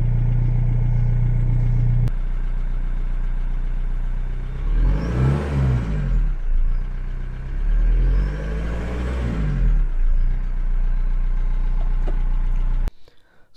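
A VW T4 van engine with a new PP Tuning exhaust idles low and steady, then revs twice in deep rumbling bursts through the exhaust before settling and cutting off.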